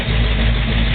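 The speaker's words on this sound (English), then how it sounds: "You can hear those solid lifters pumping away." A 1970 Chevy Malibu SS with a 454 big-block, solid lifters and a Turbo 400 transmission runs loud and close, a dense steady engine roar with no pauses.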